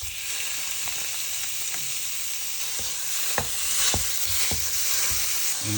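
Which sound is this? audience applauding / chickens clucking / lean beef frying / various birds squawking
lean beef frying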